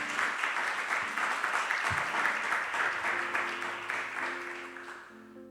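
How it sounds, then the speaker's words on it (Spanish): A church congregation claps in loud, dense, steady applause that gradually tapers off, while a sustained keyboard tone rises beneath it toward the end. "Denle ese fuerte aplauso al Señor."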